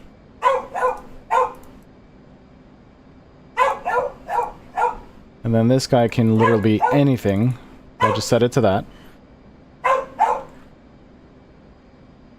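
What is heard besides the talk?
dog barking at neighbors opening their garage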